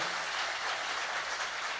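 Church congregation applauds steadily in a dense, even wash of clapping, moderately distant and without breaks, no voices standing out.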